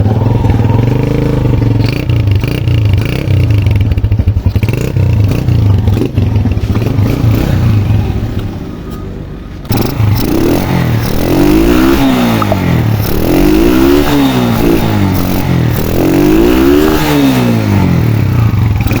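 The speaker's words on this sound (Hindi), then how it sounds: "इस बाइक को स्टार्ट करके आपको चेक करवाते हैं" A Honda 125 motorcycle fitted with a CD70 carburetor idles with a clattering rumble, then after a brief dip is kicked back to life and revved hard several times in rhythmic rising and falling surges, close and loud.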